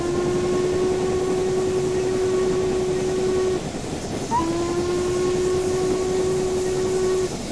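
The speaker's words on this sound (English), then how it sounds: "And the spacebar whistle is really beautifully looped." A steam locomotive whistle sounds in Train Simulator, two long steady blasts separated by a brief gap, loud and sustained over a constant rumbling background.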